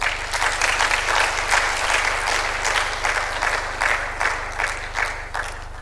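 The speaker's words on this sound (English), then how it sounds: "A round of applause for us chartered accountants." Chartered accountants in the audience at an ICAI Bahrain Chapter annual flagship conference give a dense, steady round of applause. The clapping is loud and sustained throughout, with a low hum underneath.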